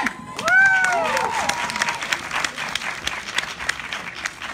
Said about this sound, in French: Applaudissez très fort les 8 candidats, mesdames et messieurs.